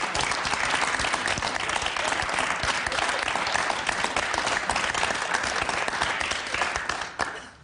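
An audience bursts into sustained, dense applause that keeps an even level for several seconds before tapering off at the end.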